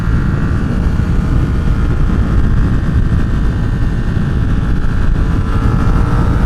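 Motorcycle engine with stock exhaust while riding, a steady droning hum with low rumble and wind rush, constant and fairly loud without talk.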